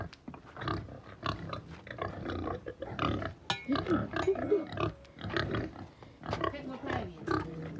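A pig grunts and snorts repeatedly on a Jamaican farm, close by and fairly loud, mixed in with people talking throughout.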